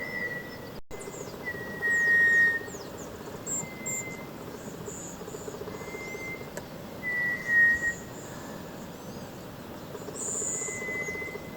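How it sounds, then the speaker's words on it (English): A thin, drawn-out, ghostly whistle of a hook-billed vanga repeats every couple of seconds at a distance, over a constant buzz of insects, in Madagascar. "Listen here for the ghostly whistle of the hook-billed vanger."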